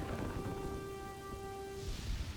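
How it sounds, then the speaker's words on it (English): Steady rain hiss with low rumbling thunder in the village-building game Kingdoms and Castles, accompanied by a few sustained tonal music notes that fade out near the end. "Rain ruining all our farms."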